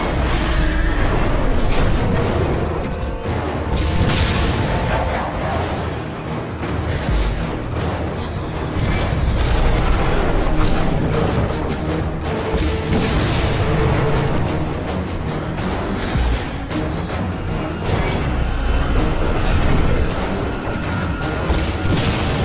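Explosive barrels blowing up during a fight in the video game Singularity, a dense run of heavy booms and crashing blasts that continues steadily and loudly with no voices.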